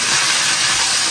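Cooking wine poured into a hot wok beside frying scallion, ginger, garlic, bay leaves and cinnamon, giving a loud, continuous steamy hiss that fills the short moment on its own.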